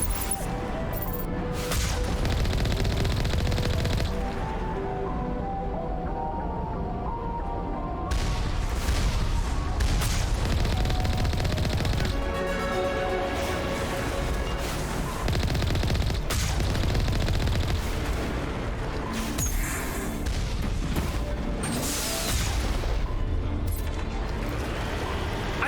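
Missile turrets in Mass Effect fire in rapid, dense volleys: loud continuous blasts and booms stacked over each other, with short gaps between bursts.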